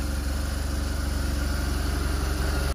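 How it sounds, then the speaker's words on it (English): A motorcycle's brake servo activates with a steady, close electric hum and buzz that pulses slightly and continues unbroken for nearly three seconds, sitting alone without any talk. "that's the servo activating"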